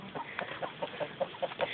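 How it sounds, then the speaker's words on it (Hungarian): Chickens clucking in the video game Minecraft, a short run of soft, evenly spaced clucks at low volume with no talking. "Szia, tyúkocska!"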